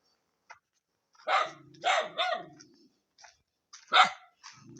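A dog barks a few times in short bursts, fairly close, with quiet gaps between barks.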